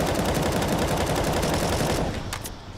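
Rapid pistol gunfire in Counter-Strike on the map Mirage during a professional IEM Katowice 2023 quarter-final match: a dense burst of loud shots for about two seconds, then fading to a couple of lighter pops.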